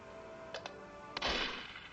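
Gunfire in the horror-themed video game TF2 (Team Fortress 2) comes as a couple of quick sharp shots followed by a louder blast that fades over a faint steady background.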